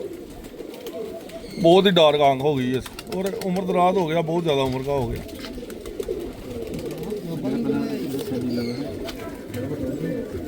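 Pigeons kept by a fancier coo in a clear, fairly close burst, then repeated rounds of cooing continue over several seconds under a man's ongoing speech.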